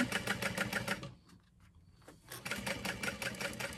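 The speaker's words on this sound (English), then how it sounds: "And then I'm just sewing about a quarter of an inch seam allowance, everything together." A sewing machine runs at a quarter-inch seam allowance along a fabric handbag seam, rapid rhythmic stitching that stops briefly in the middle and then resumes at the same close, steady pace.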